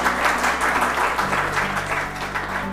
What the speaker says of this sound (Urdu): چلیں آج تالیاں بجا دیں